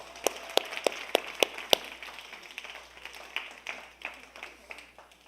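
Scattered applause from a small group of students at a high school Sunday worship service in a Korean church: a handful of distinct, crisp claps at first, then softer, thinning claps tapering off, close and unaccompanied by talk.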